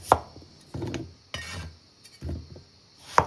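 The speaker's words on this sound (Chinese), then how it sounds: "這個小土豆的話，提前削皮了，直接給它對半切開就可以了" Peeled small potatoes being halved with a knife on a cutting board, a few distinct thuds and slicing strokes spaced about a second apart, close and with no talk.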